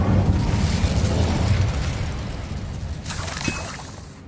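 Incendio fire spell from a wizarding video game bursting in a loud, crackling explosive rush that fades over a few seconds, followed by a faint tonal shimmer.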